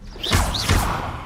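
A Confringo fire spell is cast in Hogwarts Legacy, giving two quick whooshing swishes with low thuds about a third of a second apart, loud and close, with no voices.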